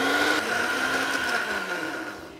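A kitchen blender whizzes chocolate cannellini bean cupcake batter with a steady, droning whir at moderate loudness, winding down slightly at the end with no talking.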